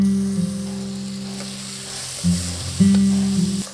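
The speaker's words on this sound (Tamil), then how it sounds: "இந்த மசாலாலாம் போட்டு கொஞ்சம் நேரம் நல்லா வதங்கட்டும்." Masala and tomato sauté in a pan for chicken biryani, a steady sizzle close by under a loud, droning hum that cuts out briefly and returns.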